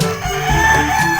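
A rooster on a chicken farm gives a single loud, close crow lasting about a second.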